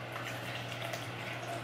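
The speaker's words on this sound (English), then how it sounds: "I just put a little bit of water." Water pours into a protein shaker bottle, a steady close splashing rush that runs without a break for the whole short stretch.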